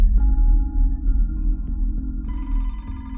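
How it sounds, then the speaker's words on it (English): A telephone rings at an office desk, a steady electronic warble repeating in loud, sustained tones over a low background hum, with no voices. "Detective Gamber got a phone call at his desk"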